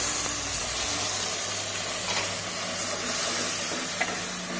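Paste going into a pan of sautéed onions and curry leaves while cooking Tirunelveli sodhi kuzhambu, giving a steady, close sizzling hiss with faint stirring throughout and no talk.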